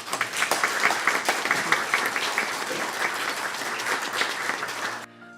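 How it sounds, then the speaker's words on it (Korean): A church congregation breaks into steady applause to welcome a guest lay preacher, dense clapping filling the room for about five seconds before stopping abruptly. "함께 박수로 환영하겠습니다."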